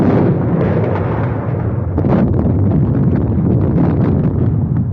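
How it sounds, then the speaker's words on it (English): Continuous dense rumble of an artillery barrage in a 1930 war film, a loud sustained roar of blasts with a sharper burst near the middle, no voices over it. "Somebody will have to crawl through that barrage."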